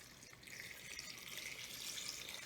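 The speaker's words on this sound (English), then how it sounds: "We're just going to add 2 to 3 cups of water." Several cups of water pour steadily into a pot holding stove top potpourri ingredients with a dash of vanilla, a continuous close splashing hiss that builds slightly and runs alone throughout.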